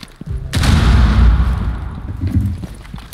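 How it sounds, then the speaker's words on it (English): A frag grenade goes off in the shooter game Far Cry 5, a sudden heavy boom followed by a long rumbling roar that slowly fades, with faint gunfire-like crackles trailing near the end. "Grenade out."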